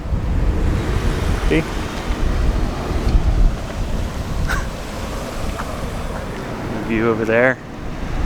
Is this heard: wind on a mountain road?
yes